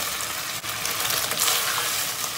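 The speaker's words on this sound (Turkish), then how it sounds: "Tam bu aşamada soğanları atıyoruz." Onions dropped into a pan of fully cooked meat frying in its own fat give a loud, steady, bright sizzle with a brief dip near the start, close up and continuous.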